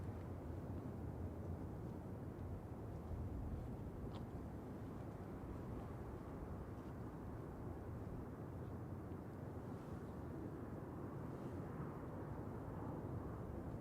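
An airliner departs Manchester Airport's runway 23 right with a steady, broad roar that holds throughout, far off and unbroken, with no voices over it.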